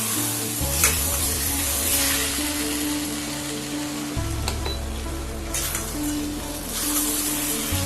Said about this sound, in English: Once the eggs are all in, we'll stir it little.